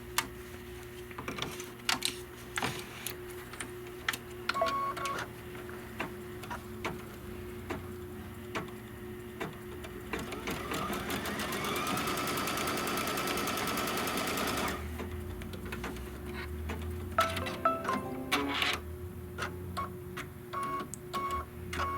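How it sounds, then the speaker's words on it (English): An embroidery machine stitches a seam line on house fabric laid right side down, a steady rapid mechanical chatter that swells into a denser burst midway, with scattered clicks and taps around it. "And then it will stitch the seam line."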